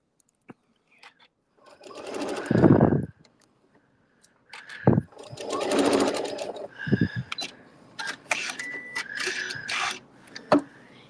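Sewing machine sewing a quarter-inch quilting seam for appliqué in short bursts, loud close whirring runs separated by pauses with small clicks and handling noises.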